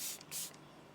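Waterproofing spray hisses from an aerosol can onto hunting boots in two short bursts, close and soft.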